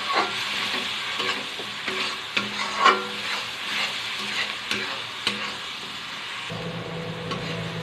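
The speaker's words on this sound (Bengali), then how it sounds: "এবার কষিয়ে নেব ভালো করে।" Ground cumin, turmeric, chili and coriander powders stir-fried in a pan for chana masala, a soft steady sizzle broken by scraping spatula strokes and light clinks, close and unhurried.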